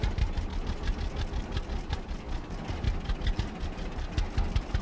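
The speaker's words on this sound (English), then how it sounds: "park the tractor on the grass here" A tractor engine idles steadily in the farming game Farmer's Dynasty, a low, even rumble with a faint knocking pulse running throughout, without any talk.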